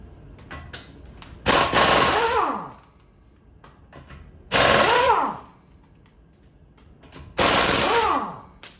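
Impact wrench with plastic-lined lug sockets removing the wheel lug nuts on a Tesla Model Y, three loud, close bursts of rapid hammering rattle, each about a second long, with descending whines as the tool spins down and quiet gaps between.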